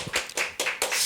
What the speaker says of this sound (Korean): 주님 앞에 영광의 박수를 올려드립니다